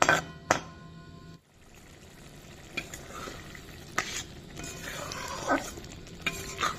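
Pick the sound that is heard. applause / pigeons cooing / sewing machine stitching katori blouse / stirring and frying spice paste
stirring and frying spice paste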